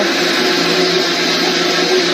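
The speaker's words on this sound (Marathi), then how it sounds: "मोठी मम्मी मिक्सर लावत आहे" A blender-type mixer grinder whirs steadily and loudly throughout, with a constant high motor whine and no pauses.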